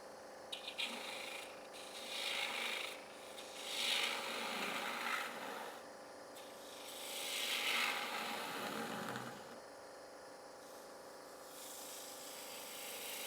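A woodturning gouge cuts into a spinning wooden honey pot toward its centre, sounding as soft rasping, scraping passes that swell and fade in a few bursts. The cuts are fairly quiet and no one speaks.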